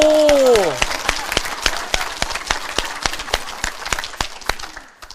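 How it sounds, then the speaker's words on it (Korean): Audience applause at a Korean public lecture, brisk scattered clapping that fades over a few seconds, with a brief voice at the start. "우리 박수 한번 주세요"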